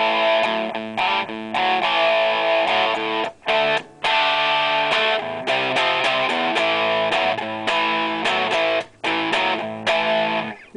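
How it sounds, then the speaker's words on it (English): An electric guitar plays through a Lenahan Distortion+ pedal set to about half distortion, giving warm, mellow overdriven chords and riffs with brief gaps between phrases. "It's kind of a mellow, tubey kind of distortion"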